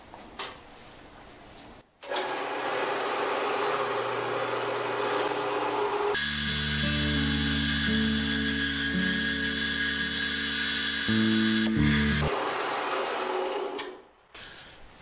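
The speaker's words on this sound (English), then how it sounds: "I'm going to cut this piece of steel pipe because I need it for a special purpose." Power tool cutting a piece of heavy wall steel pipe in a workshop, a loud steady high-pitched whine that deepens into a strained tonal grind under load for several seconds before stopping, with no talk.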